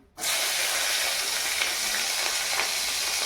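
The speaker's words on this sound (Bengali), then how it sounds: "এবার আমি কটা লঙ্কা তেলের মধ্যে দিয়ে দেবো" Chillies and black cumin seeds hit hot oil in a pan and set off an immediate loud, steady sizzle that holds evenly to the end, with no talking.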